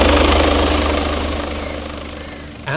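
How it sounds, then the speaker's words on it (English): Police air support helicopter flying overhead, a loud steady rotor thump and engine whine that holds close and slowly eases in level, with a brief louder burst at the very end. "This is certainly one of the most advanced, if not the most advanced police helicopter flying today."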